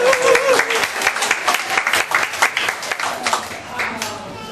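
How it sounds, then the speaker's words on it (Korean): Audience applause at a Korean family-worship parenting class as the next group comes up to present, a dense burst of clapping that stays loud throughout, then thins slightly toward the end. "박수"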